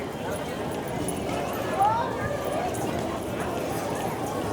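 Horse hooves clip-clopping on Main Street USA at Disneyland's opening as the animal pulls a trolley, the steps fairly close and rhythmic beneath a busy crowd and people talking.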